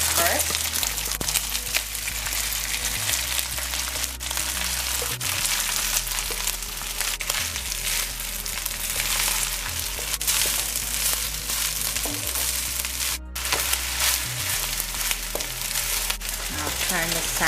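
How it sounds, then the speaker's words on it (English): Cooked saffron rice hits hot oil in a pan and fries with a loud, dense, continuous sizzle and crackle, close and sustained throughout. "The oil is hot. I'm going to add the rice first."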